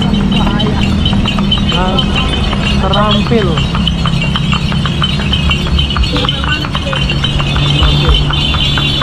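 Horse hooves clip-clopping on a main road as it pulls a delman cart in Bantaeng, South Sulawesi, a steady rhythmic clatter under rattling wheels, passing traffic and people talking throughout.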